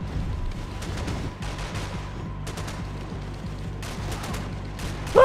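Rapid gunfire from the video game Max Payne 3, bursts of shots crackling at mid distance over a low rumbling game backdrop, with louder volleys recurring in irregular clusters.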